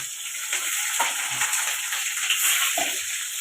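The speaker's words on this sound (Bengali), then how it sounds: "আগতে পিঁয়াজখিনি ভাজি লওঁ" Onions frying in a pan with garlic for an Assamese pork curry: a constant bright sizzle with occasional soft stirring scrapes, close and steady throughout, no voices.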